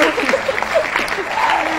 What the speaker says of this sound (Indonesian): Luar biasa, tepuk tangan.